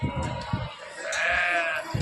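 A sheep gives one drawn-out, wavering bleat over a low murmur of voices and rustling nearby at a sheep market in Gudur.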